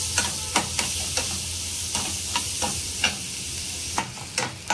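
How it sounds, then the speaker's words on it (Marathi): Onions fry in hot oil for a restaurant-style paneer butter masala, giving a steady close sizzle with regular scraping stirs of a spoon in the pan and no voices. "थोडासा तांबूस रंग येईपर्यंत कांदा आपण तेलात परतून घ्यायचा आहे।"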